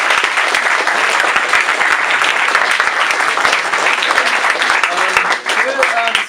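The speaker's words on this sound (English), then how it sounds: "can we have a round of applause for these speakers?" Loud, sustained audience applause fills a student society event on politics in music, dense clapping from a crowd that holds steady before dipping briefly near the end.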